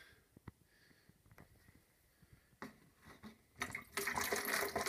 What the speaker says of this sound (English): putting water on it.